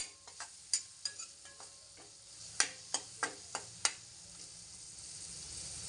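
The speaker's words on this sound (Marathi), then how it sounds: "बघू शकता किती छान असं परतवते मी" Masala sautéed in oil for a spicy crab curry, sizzling softly and steadily while a spoon stirs it, giving irregular sharp taps and scrapes against the pan, with no talking.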